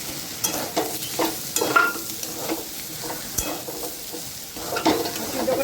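Ridge gourd and boiled banana stem curry with cumin and coriander powder stirred in a frying pan, with a steady sizzle and repeated scraping strokes of a spoon throughout, no voices.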